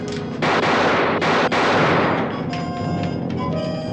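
A burst of gunfire from ordinary guns, several loud close blasts in quick succession with a rumbling tail, then a sustained noisy wash as the shooting fades.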